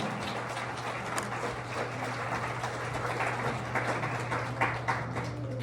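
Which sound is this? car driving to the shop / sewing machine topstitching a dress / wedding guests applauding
wedding guests applauding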